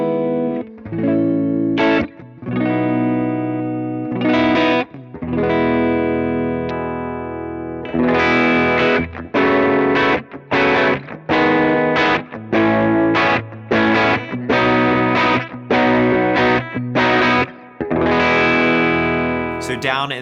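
Distorted electric guitar run through effects pedals, ringing sustained chords first, then a series of punchy, rhythmic stabs with short gaps between them, heavy and saturated with chorus and reverb.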